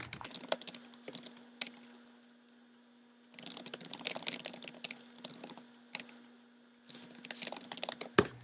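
Keys clatter on a computer keyboard while an edit is typed into a document, coming in quick irregular bursts with short pauses between them, close and fairly quiet, with a faint steady hum underneath.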